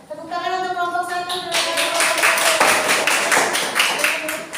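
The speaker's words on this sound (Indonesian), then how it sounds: "Tepuk tangan untuk kelompok satu" A small group claps for presenters in a classroom, starting with a voice speaking briefly, then scattered quick handclaps that grow into brisk, fairly close applause lasting several seconds.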